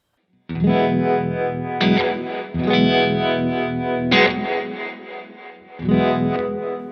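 Tremolo placed after reverb on a Strymon Flint V2 pedal, an electric guitar's sustained chords chopped by pulsing volume dips, with the reverb tail cut short in each gap; three or four loud strummed chords, close and alone.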